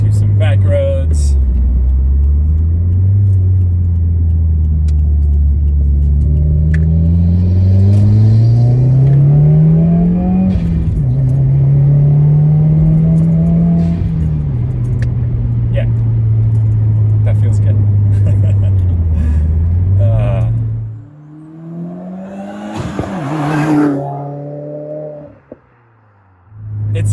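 Car with a MAPerformance Stage 2 Plus tune and 91 octane fuel driving on back roads, its engine loud and close as it climbs and falls through the revs, then briefly eases off and revs again.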